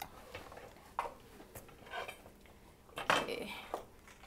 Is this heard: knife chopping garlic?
yes